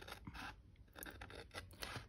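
Scissors trim glued paper for a piece of happy mail, giving a quiet run of snipping and scraping cuts in an uneven rhythm, close by with no talking.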